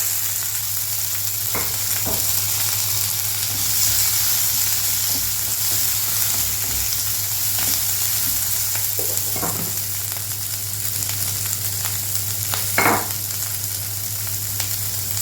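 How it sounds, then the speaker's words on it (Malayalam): Chopped onions sautéing in a pan for Karaikudi kara chutney, a steady close-up sizzle with a constant low hum beneath and a few scattered scraping and stirring knocks from a utensil. "സവാളയൊക്കെ ഒന്ന് ചെറുതായിട്ട് വാടി വരണേ. ആ ഒരു സമയം വരെ നമ്മളിതൊന്ന് വഴറ്റിയെടുക്കുന്നുണ്ട്."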